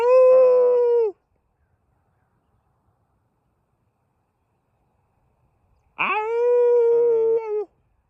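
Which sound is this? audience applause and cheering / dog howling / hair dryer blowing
dog howling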